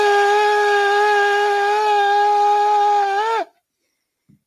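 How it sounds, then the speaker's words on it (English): A shofar blown in one long, steady, loud horn blast lasting a few seconds, its pitch bending and dropping at the end before cutting to near silence, with no one speaking. "I just realized that I didn't play my shofar so far."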